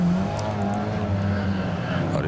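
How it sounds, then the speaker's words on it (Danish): Standard race cars running their original, unmodified engines roar through the final heat of a 2011 Danish Cupløb round, a constant loud engine drone under a commentator's voice. "det er jo det der her standardbiler, hvor der ikke må røres med motoren"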